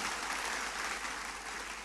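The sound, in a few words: applause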